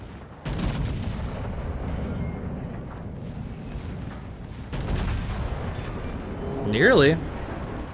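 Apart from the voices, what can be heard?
battleship V. Veneto main guns firing, from a video game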